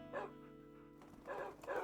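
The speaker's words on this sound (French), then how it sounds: "Ah, c'est juste plein de chiens." Dogs in a Minecraft Lucky Block game, two short faint yips or barks close together, a quiet one early and a second pair near the end, with no talking.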